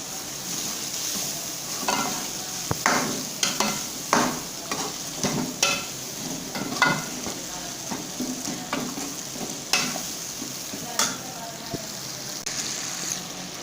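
Chopped tomatoes sizzle and fry in a pot with meat to follow, while a spoon stirs and scrapes in irregular bursts over a constant hiss.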